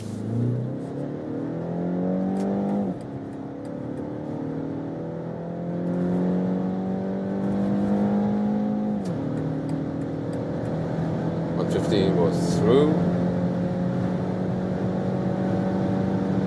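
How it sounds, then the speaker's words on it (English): A compact SUV's four-cylinder engine pulls hard in sport mode from a rolling start at 40 km/h, its steady in-cabin drone climbing through several gear changes with clear shift dips, with brief speech near the end. "It was a pretty nice sound, right? So for that 4-cylinder engine,"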